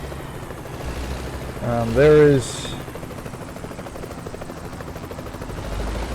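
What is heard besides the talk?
helicopter flying in the video game American Truck Simulator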